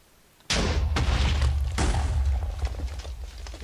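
TNT exploding in a Minecraft-style cave map, a sudden loud booming blast that cuts in from near silence, followed by a second burst and a long rumbling tail that slowly fades, close and heavy.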